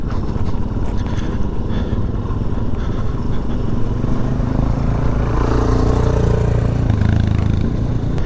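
A 2022 Benelli Tornado TNT 125 motorcycle rides along a festival trail, its small engine droning loudly and steadily throughout with rattling clatter from bumps, the pitch rising slightly toward the end.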